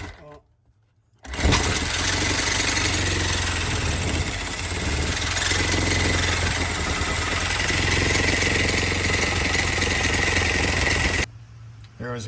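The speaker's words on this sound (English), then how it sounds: "sawzall." A reciprocating saw cuts steadily and loudly for about ten seconds with a harsh buzzing drone, starting abruptly after a short quiet moment and stopping just as suddenly, during a water heater and furnace install.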